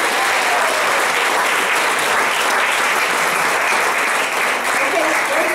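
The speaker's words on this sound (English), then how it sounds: "I said hold your applause, but you know what? Give it to us." A church congregation claps and cheers in sustained, dense applause at a Sunday service, loud and continuous throughout with no pause.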